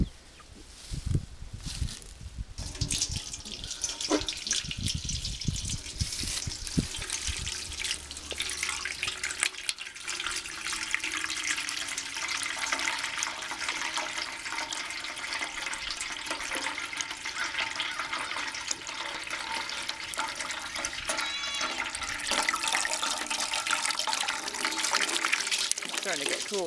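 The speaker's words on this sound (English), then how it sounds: "Let's check the temperature of the water coming out of the compost." Water pours steadily from a pipe running out of a biodynamic compost heap, fed from a barrel, making a continuous splashing gush close by under intermittent talk.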